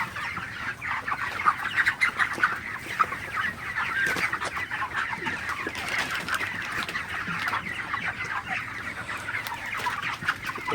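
Heat-stressed broiler chickens panting in a crowded poultry shed, many birds clucking continuously at close range, with a brief flutter of wings and no talking.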